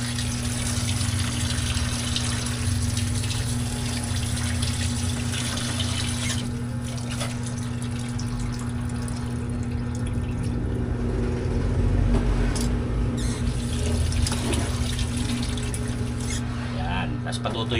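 Tap water running steadily while dishes are washed in a home kitchen, a continuous splashing hiss over a low constant hum throughout.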